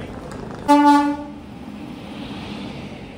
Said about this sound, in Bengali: 1:32 আমাদের ট্রেন আজকে বর্ধমান স্টেশনে ঢুকছে